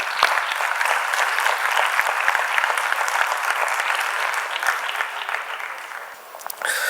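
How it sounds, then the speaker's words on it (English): A lecture audience welcomes a speaker on liberal arts programs in India with sustained applause, many hands clapping densely and evenly, then thinning briefly near the end before a final flurry. "Let's welcome him with a huge round of applause."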